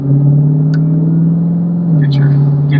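A loud, steady Dodge Challenger Demon engine rumbles close by with a deep, even drone, and a brief rise in pitch near the end.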